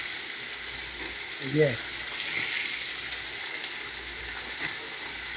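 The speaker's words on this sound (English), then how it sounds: "I'm frying up my season." Seasoning fries in a pan for Jamaican ackee and saltfish, a soft continuous sizzle with a brief stirring clatter partway through, and someone speaking briefly over the cooking.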